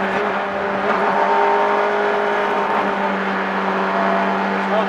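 Honda S600 engine revving high and steady to pull away from a dead stop, a continuous loud buzzing drone heard from inside the car, with someone talking over it.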